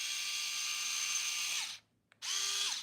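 A power drill backs out Phillips screws, its high steady whine running near and loud, cutting off briefly and then revving again.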